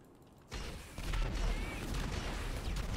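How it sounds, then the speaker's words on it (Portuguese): Gunfire in the video game GTA 5, a dense burst of rapid shots and crashing impacts that kicks in suddenly and keeps going loud and continuous, with a voice faintly present. "Vamos continuar atirando, atirando. Quebrar tudo."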